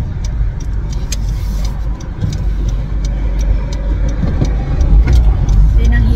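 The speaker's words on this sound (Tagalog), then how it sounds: "Medyo traffic dito." Congested road traffic in Canada heard from inside a car, a steady low engine and road rumble with passing vehicles and occasional light clicks, loud and continuous, with a voice speaking over it.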